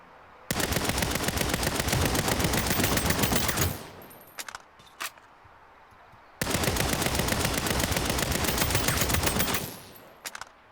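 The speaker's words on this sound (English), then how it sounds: "The bullet impacts are nice, but I don't know why they're louder than the gun itself." Saints Row video game gunfire with bullet impacts: two long, loud bursts of rapid automatic fire, each several seconds, with a few scattered single shots in the quiet gap between them.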